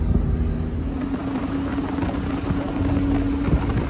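A Lamborghini cruises with the top down at sunset, its engine a low steady drone under continuous wind rush, close and even throughout.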